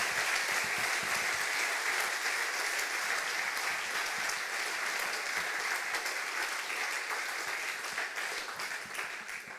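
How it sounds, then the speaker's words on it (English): Audience at a hacker conference talk on RAM memory acquisition claps loudly and continuously in a dense, even wash of applause that eases slightly toward the end. "Can we have another applause for Ruud?"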